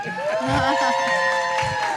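A bowling alley crowd cheers for a hometown winner: loud, close whoops and shouting voices blend into a sustained roar of applause and excitement.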